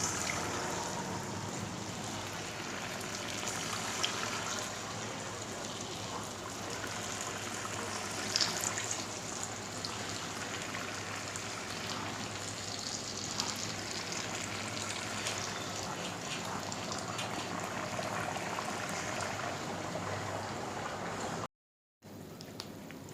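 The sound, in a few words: dahi vada batter frying in hot oil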